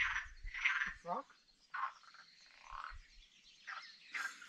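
A frog croaks in the Valle Brosque on Tenerife, giving a series of short, rasping calls with pauses between them, fairly close in an otherwise quiet natural setting.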